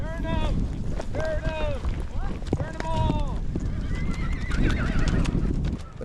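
A colorful herd of horses, many of them paints, is driven across open country, with repeated loud whinnies and neighs over a steady rumble of hooves, wind buffeting the microphone throughout.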